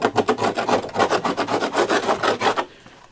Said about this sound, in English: I got a chisel that I sharpen the end of it real sharp, where I can just get up under that stuff and just scrape it off